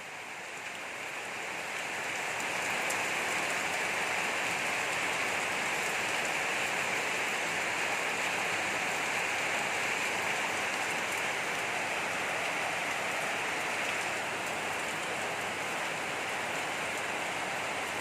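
Steady heavy rain falling all day and night, a dense continuous hiss that swells in over the first seconds and stays loud and even, with no talking.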